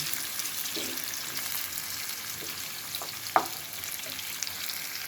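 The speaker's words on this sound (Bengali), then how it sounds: "এক কাপ পরিমাণ পেঁয়াজ কুচি সেটা একটু ভেজে নিচ্ছি" About a cup of chopped onion fries in a pan with a soft, continuous sizzle at moderate volume, broken by a few faint knocks from stirring, with nobody speaking.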